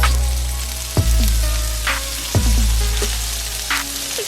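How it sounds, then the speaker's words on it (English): Pre-sliced bacon frying in a skillet, a loud, close, continuous sizzle with popping spatters and a few heavier knocks. "I am going to cook the bacon in this skillet, which I already pre-sliced"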